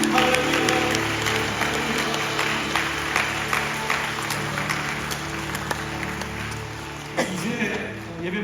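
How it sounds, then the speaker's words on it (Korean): Applause from a Korean deaf church congregation after a closing prayer in worship, a continuous mass of clapping with steady room hum beneath, gradually thinning and scattering toward the end. "우리 하나님께 영광의 박수 올리겠습니다"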